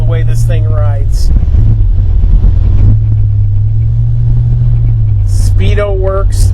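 A 1956 Chevy classic car, red and white, cruises down the road with a low, steady engine and road rumble while someone talks over it near the start and end.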